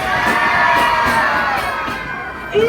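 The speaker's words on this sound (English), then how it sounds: "Everybody all together, scream." A crowd of children and adults screams together in one loud, sustained burst at close range, with a brief rise at the very end.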